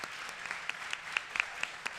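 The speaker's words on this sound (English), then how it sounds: "another round of applause for all the candidates" Audience applause for candidates at a town candidate forum on food and farms, a room of moderate clapping, steady and fairly even with occasional sharper claps, no talking over it.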